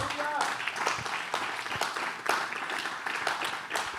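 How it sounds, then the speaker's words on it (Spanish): A church congregation applauding during a sermon, a fairly loud burst of mixed clapping with some voices and cheers blended in across the whole span. "Dale un aplauso al Señor."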